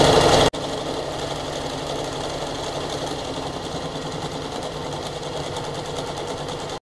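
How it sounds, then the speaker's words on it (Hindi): An Usha Nova electric sewing machine running in reverse, a close, steady mechanical hum with rapid needle chatter that continues evenly after a brief louder start and stops abruptly. "आप देखिए जैसे मशीन को चलाते हैं, बैक करने के लिए देखो।"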